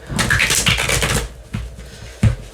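Tarot cards riffled and shuffled in a steady run of crisp papery flutters, close and fairly loud, ending in a couple of soft taps as the deck is squared.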